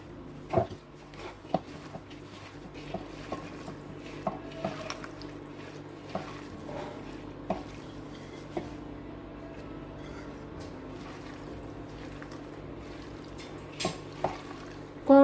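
Bitter gourd, potato and koi fish chorchori being mashed and mixed by hand in a dish, with soft squelching and occasional light clicks and taps against the bowl over a faint background hum.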